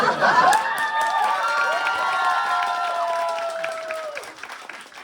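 A theatre audience at a play's curtain call cheers and applauds: loud drawn-out whoops and shouting voices ring out over dense clapping at first, then the cheers trail off and the clapping softens toward the end.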